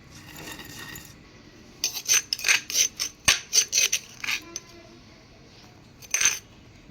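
Garlic, chilies and jaggery pounded in a stone mortar for peanut chutney: a run of about a dozen sharp, rhythmic clinking strikes, close and fairly loud, after a quiet start and with one more short burst near the end.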